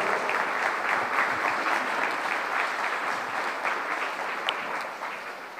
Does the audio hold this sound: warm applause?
yes